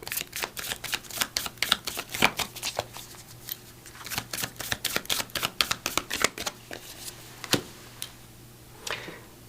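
An empowerment oracle card deck being shuffled by hand, rapid crisp flicking and riffling clicks in uneven bursts, close and clear, without speech.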